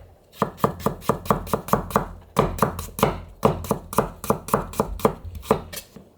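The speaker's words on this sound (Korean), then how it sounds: "얇게. 사선으로 썰어주세요." A knife thinly slices shiitake mushroom and carrot on the diagonal against a cutting board, giving quick, regular chopping taps in close bursts with a short pause midway.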